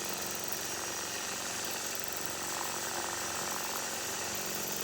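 A sewing machine runs at a constant speed during free-motion quilting, a dense continuous mechanical whir and buzz with a steady, even level and no voices.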